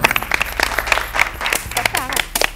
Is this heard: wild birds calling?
no